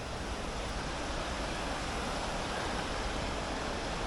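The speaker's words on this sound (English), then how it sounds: "That's the river that is. But you can see it flowing like hell." A fast, swollen river rushes steadily after a night of heavy flow, a dense, even roar with no breaks, heard alone and fairly distant.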